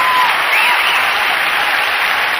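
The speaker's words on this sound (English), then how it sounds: "Standing ovation." A bodybuilding championship audience gives a standing ovation for the WBF champion, with loud, dense, continuous applause and crowd noise filling the hall, close and steady throughout.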